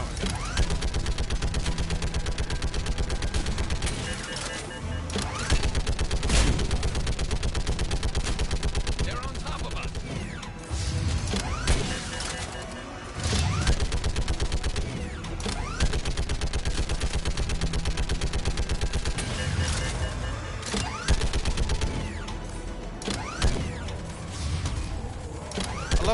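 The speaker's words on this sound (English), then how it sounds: "I love how when you shoot them with this, they just literally explode" Sustained gunfire in the Mass Effect game with enemies bursting apart, a dense, loud, continuous clatter of rapid shots and mechanical noise running throughout with only brief dips.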